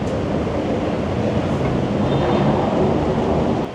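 An elevated metro train in Bangkok, a loud continuous rumble and rolling drone with a faint high whine, heard steadily from on board or very close.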